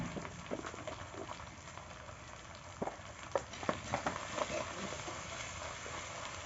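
Turmeric and chili powder being stirred through hot oil in a pan for Bengali chicken kosha, a soft steady sizzle broken by a few sharper scraping knocks of the spoon.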